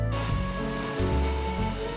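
Water poured into a pot of cooking mutton and turnip curry, a steady, close rushing pour that runs the whole two seconds with no talk over it.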